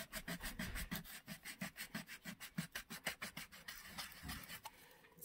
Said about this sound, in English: Then you might take some sandpaper.